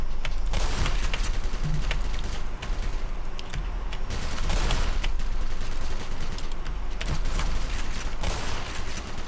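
Automated gun turrets in the video game Black Mesa fire in dense, rapid bursts, loud and continuous, with heavy rattling volleys overlapping throughout.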